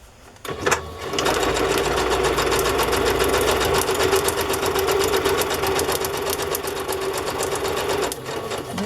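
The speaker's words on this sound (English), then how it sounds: "Okay, I'm ready to sew." A sewing machine stitches wire-bound sewing pattern journal pages, starting after a brief clunk and running in a continuous, fast, even whir close by until it stops near the end.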